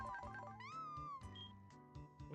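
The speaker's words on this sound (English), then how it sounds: "What's with the meowing?" Ralts' short cry in Pokemon Infinite Fusion, a cat-like meow heard in a few quick chirping bursts, faint and alone.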